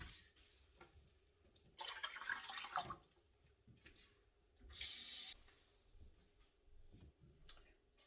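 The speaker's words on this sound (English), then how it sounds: "And then we'll do 6 cups of water." Six cups of water are poured from a tap or container for a jalapeño pickling brine in a kitchen, heard as faint trickling with two louder bursts of running water between quiet pauses.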